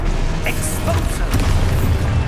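An Expulso spell explosion in the video game Hogwarts Legacy, a loud boom among crackling bursts of combat sound, with a voice speaking over it.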